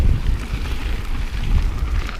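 Strong wind buffets an exposed mountain bike trail in Fruita, Colorado. It comes as a steady, loud, low roar of gusts hitting the microphone, with no other sound standing out.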